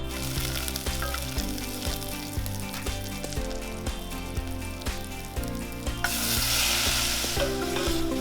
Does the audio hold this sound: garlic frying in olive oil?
yes